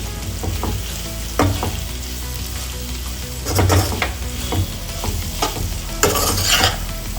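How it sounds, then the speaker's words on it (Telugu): Grated carrot stir-fried in a pan, a steady close sizzle with intermittent scraping and stirring strokes of a spatula, no voices. "జస్ట్ అటు ఇటు టోస్ట్ చేసుకోండి క్యారెట్ అంతా కుక్ అవ్వాల్సిన అవసరం అయితే లేదు"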